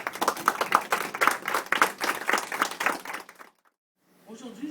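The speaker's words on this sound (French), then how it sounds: "je vous invite à l'applaudir" Applause breaks out at a charity organisation's general assembly as a speaker is invited to take the stage, a dense patter of clapping hands that fills the room for several seconds, then stops abruptly, followed by faint talk.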